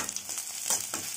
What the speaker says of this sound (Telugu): ఉడకబెట్టిన తర్వాత తాలింపు వేసుకుందాం